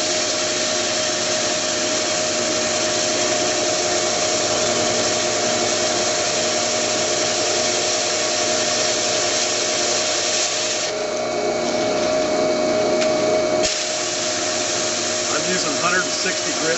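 Sandpaper of 160 grit rubbing steadily over a thin wooden guitar side, a continuous dense abrasive hiss that runs unbroken for the whole stretch, close and fairly loud, with a brief change in texture near the end.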